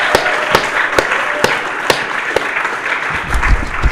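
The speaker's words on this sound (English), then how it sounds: "So please join me in applauding our graduates," An audience at a literature department graduation celebration applauds the graduates, a loud roomful of clapping punctuated by sharp, regular individual claps close by, continuing steadily throughout.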